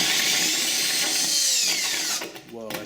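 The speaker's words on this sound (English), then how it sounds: "we're going to drill like this" A power drill bores into a half-inch-thick glass tank, a loud, high, whining grind that holds steady and close, then drops away briefly as the bit slows before spinning up again.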